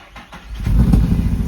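A Nissan 350Z drift car's engine cranks and catches, then settles into a steady, fairly subdued idle rumble, heard close up with no talking.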